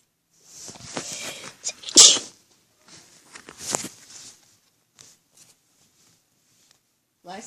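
A single sharp human sneeze bursts out indoors, followed by a quieter second burst, with brief shuffling and soft movement noises and long quiet gaps between.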